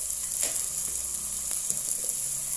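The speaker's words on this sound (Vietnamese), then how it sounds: "mình xào cho cái phần thịt chưa mềm đó" Meat stir-frying in a pan for a chrysanthemum-greens soup, a steady close sizzle with a few soft scrapes of stirring, no voices.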